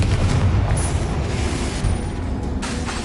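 The Confringo fire spell explodes in Hogwarts Legacy with a loud, dense blast of booming, crackling noise that fills the whole moment and fades only slightly toward the end.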